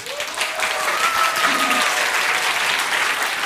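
Audience at a Russian-language lecture applauding the speaker, sustained even clapping from a sizable crowd that holds at a constant level throughout.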